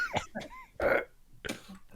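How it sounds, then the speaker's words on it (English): A man burps, then spits: a short guttural belch followed by a wet, forceful spit, close and fairly loud, with brief throaty vocal sounds around them. "prepares the answer by burping, then spitting, and then answering"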